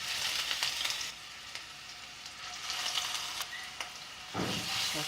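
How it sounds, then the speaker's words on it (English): Mustard seeds, green chili and ginger garlic paste fry in hot oil for a Kerala-style chicken curry, a close, steady sizzle with crackling pops and a louder burst near the end. "Once the oil is hot, adding few mustard seeds, 1 green chili, ginger garlic paste,"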